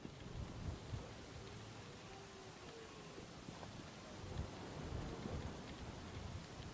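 Rain falling in the afternoon in southern Sweden, a faint, steady hiss of drops with low rumbling underneath, heard from inside or near a car without talk.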